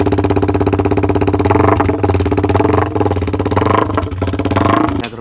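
A Yamaha MT-15 motorcycle fitted with an aftermarket carbon double-outlet exhaust runs close by, its loud, throbbing engine pulsing steadily with slight rises in revs and no talking over it.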